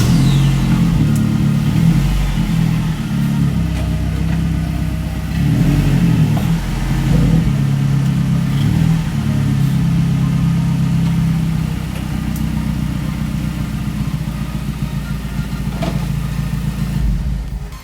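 A Mazdaspeed 3 engine runs at close range as the car creeps up onto sloped wheel blocks, a steady low rumble with gentle swells of throttle and no talk.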